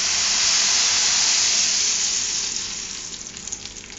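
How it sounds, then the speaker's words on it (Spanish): A bean sauce mixture hits hot oil in a frying pan, setting off a loud, steady sizzle and hiss that slowly eases as the sauce settles. "yo ya tengo aquí en un sartén poquito aceite y vamos a vaciar nuestro preparado"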